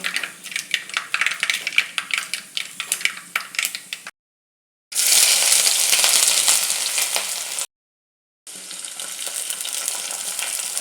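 Mustard seeds and fenugreek sizzle and crackle in hot oil for a fish head curry, a loud steady frying hiss with quick popping bursts, broken by two short silent gaps.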